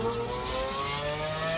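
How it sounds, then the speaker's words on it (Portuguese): A Lamborghini Aventador engine revs, holding a steady, loud, buzzing roar with rising tonal whine throughout a brief stretch, heard without talk. "Eu me emociono ouvindo o barulho desse carro"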